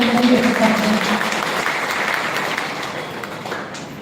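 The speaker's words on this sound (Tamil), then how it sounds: "நல்ல கைத்தட்ட" An audience at a live event claps after a greeting from the stage, starting fairly full and gradually thinning and fading, with a voice speaking briefly under the opening.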